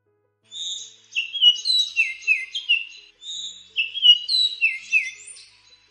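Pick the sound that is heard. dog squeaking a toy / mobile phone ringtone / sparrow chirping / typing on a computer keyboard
sparrow chirping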